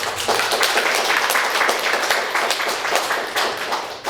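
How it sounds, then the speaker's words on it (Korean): Dense applause from a church congregation in Chicago, steady and sustained throughout, with many hands clapping at once. "박수"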